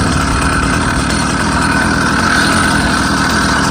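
A 66/80cc ZEDA motorized bicycle engine runs on a road in Santa Ana, California, on a rich 16:1 gas mix, giving a loud, steady two-stroke drone that stays even and close for the whole stretch.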